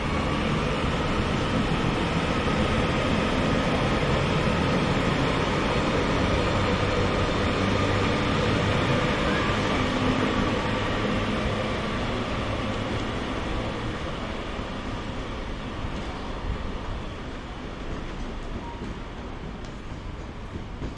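A train at Bolton station gives a steady, loud, broadband rumble that runs unbroken for the whole stretch, easing slightly toward the end, with no voices over it.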